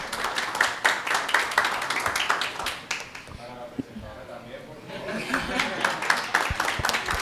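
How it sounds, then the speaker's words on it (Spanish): Audience clapping at a discussion gathering, with scattered claps that come and go while voices talk over them for most of the stretch. "Por favor, un aplauso para ellos."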